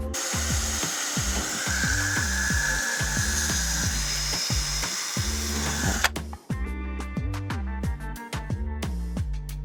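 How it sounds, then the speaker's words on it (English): A power drill bores holes into the metal side of a camper van, its motor whining in repeated loud pulses with short pauses between bursts, the pitch shifting as the bit bites through, no talk over it. "It never gets less scary putting holes in the side of the van."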